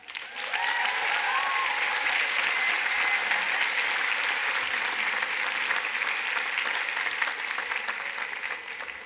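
Sustained applause from a large commencement audience welcoming a speaker, dense steady clapping that holds strong and even throughout at close range.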